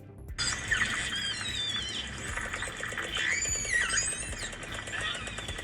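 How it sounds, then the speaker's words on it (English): Calls of an Australian killer whale off Western Australia: high, gliding squeals and whistles that rise and fall in pitch, heard continuously and fairly clearly over steady background noise. "that is the sound of an Australian accented killer whale"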